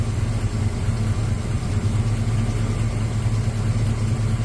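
A 1989 Chevy S10 Cameo engine with noisy valves idles steadily, giving a close, continuous low rumble with a faint ticking texture and no talk over it.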